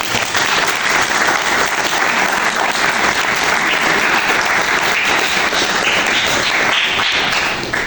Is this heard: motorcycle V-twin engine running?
no